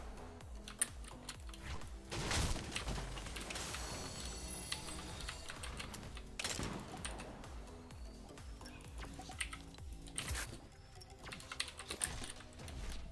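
Fast typing on a computer keyboard with blue key caps, dense runs of clicky keystrokes in bursts and pauses, close to the microphone, with no talk.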